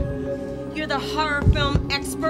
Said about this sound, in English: That's the sound of our beating hearts.